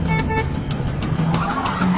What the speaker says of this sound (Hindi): तभी पीछे से एक कार तेज हॉर्न मारती हुई आती है।